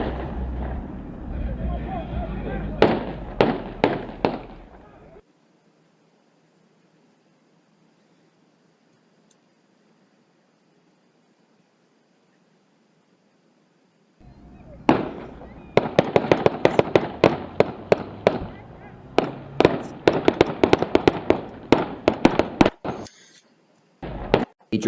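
Police body-camera audio captures a sheriff's deputy shooting in a parking lot: sharp, loud gunshots crack in two bursts separated by about ten seconds of silence, the second a rapid volley of many shots, with brief talk near the start.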